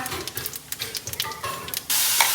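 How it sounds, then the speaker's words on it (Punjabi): Cumin seeds go into hot mustard oil for a tadka while cooking cabbage and peas, a run of soft clinks and crackles before a sudden loud sizzling hiss erupts and holds, no talk. "ਹੁਣ ਆਪਾਂ ਲਾਉਣ ਲੱਗੇ ਆ ਤੜਕਾ"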